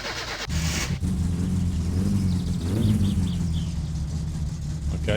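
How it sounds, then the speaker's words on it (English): Car engine in the My Summer Car video game starts up after flywheel work, catching and settling into a steady, close, low rumbling idle with slight rises in revs, heard alone without talk. "Okay, well the engine starts and it didn't blow up"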